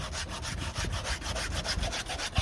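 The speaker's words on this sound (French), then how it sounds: "On frotte un petit peu partout." Surf skate grip tape gets scrubbed clean with quick, rhythmic back-and-forth rubbing strokes, close and steady with no talk.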